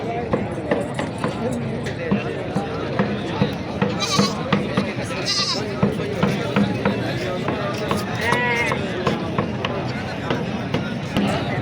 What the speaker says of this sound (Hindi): टेडी बकरा आ गया जी